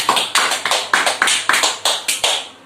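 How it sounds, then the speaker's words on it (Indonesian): Classroom applause during a micro-teaching sociology lesson, a small group clapping in sharp, fairly regular bursts, close and crisp, tapering off near the end. "Oke, tepuk tangan kepada Ronda."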